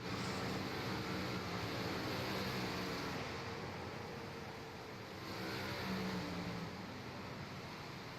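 Big block modified dirt race cars roar on warm-up laps at Knoxville Raceway, a steady, dense engine drone from a field of cars at a distance, holding level for the whole stretch with a slight swell near the end.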